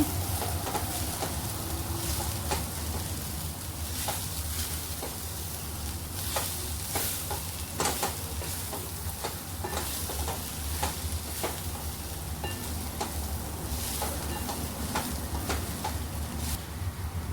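Bitter gourd (karela) bhaji is stirred in a sizzling pan, with steady frying hiss and repeated spatula scrapes and clinks at an uneven rhythm, close and continuous without talk.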